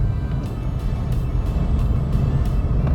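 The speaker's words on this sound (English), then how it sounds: "it does take a while for it to really climb through the rev range" A 2020 Renault Clio's engine hums steadily as it works slowly up through the revs, a continuous close drone with road noise and no speech.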